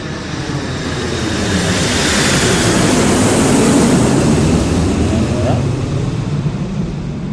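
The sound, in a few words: airplane landing at a nearby airport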